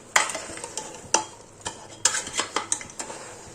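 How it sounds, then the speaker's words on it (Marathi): Rice is mixed into chicken biryani in a pot, giving a series of distinct scraping and clinking stirs of spoon against metal, about eight strokes, close and fairly loud, with no voices. "चला तांदूळ टाकून घेतले आपण आता याच्यात. थोडंसं मिक्स करून घेऊ मस्त."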